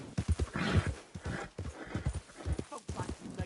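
Horse hooves clip-clop steadily on the ground in Red Dead Redemption 2, close and rhythmic, with a whinny and a voice speaking over the hoofbeats.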